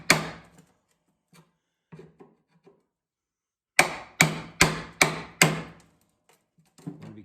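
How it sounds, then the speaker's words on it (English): Sharp metallic strikes from a panel separation tool prying apart the A-pillar of an early Ford Bronco: one hit, a few light taps, then a rapid burst of five loud, evenly spaced blows and a final knock, with no talking. "Then with the panel separation tool, we get in there and start taking this apart."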